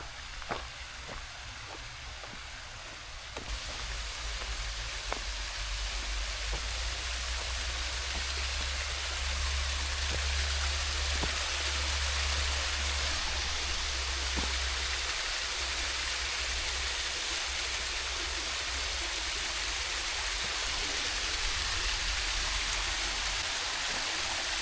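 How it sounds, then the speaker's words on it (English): Small Hobble waterfall on the Hemlock Falls trail, a steady hiss of splashing water that fills the whole clip after a brief quieter moment at the start, with scattered drip-like ticks and no talking. "So this is the Hobble waterfall."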